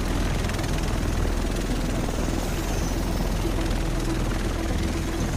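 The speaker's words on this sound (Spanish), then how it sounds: "El resto de nosotros estará en el helicóptero." A helicopter arrives in the video game Tom Clancy's The Division, giving a steady, loud rotor thrum and engine drone that holds throughout with no clear speech.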